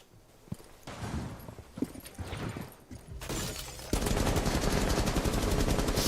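Gunfire in the tactical shooter game Rainbow Six Siege: a few scattered shots at first, then a loud, sustained burst of rapid automatic fire that fills the last couple of seconds, with no talking.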